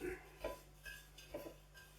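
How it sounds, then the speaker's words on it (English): A utensil stirring spices and garlic granules in a bowl, with a few quick, faint scraping and clinking strokes in a quiet kitchen. "So we're just going to give that a mix up."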